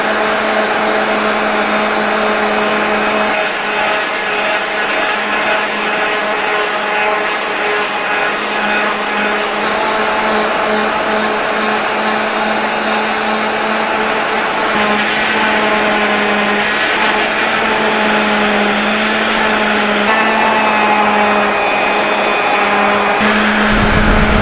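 Steady whine of a powered sander smoothing an oak axe handle, moving from 120 to 220 grit, loud and continuous with tonal harmonics that shift slightly in pitch, no voices.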